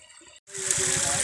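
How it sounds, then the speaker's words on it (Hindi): Water rushes out at one of several spots in a village, a steady splashing flow that starts abruptly after a short gap and carries on close by. "गांव में 3-4 जगह ऐसी है जहाँ बहुत पानी निकल रहा है"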